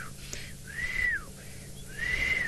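A person whistles an imitation of a pearl-spotted owlet's call: two rising-and-falling whistled phrases with a pause between them, fairly close, over a low background hum.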